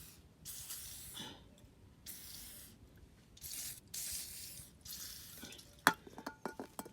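Several short bursts of WD-40 aerosol spray hissing close up in a Fiat Uno Turbo engine bay, separated by brief pauses, then a few clicks and light knocks at the end.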